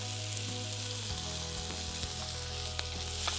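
Onions frying in oil with green chili and ginger give off an even, crackling sizzle over a low steady hum, with faint stirring taps.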